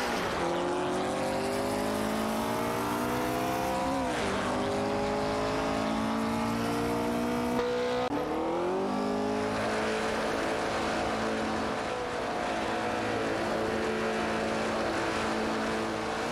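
Several Porsche 908 race cars, Spider and 908H Coupe, contest a position in a racing video game; steady loud engine drone with pitch sweeps as they shift and accelerate, continuous throughout with no talk.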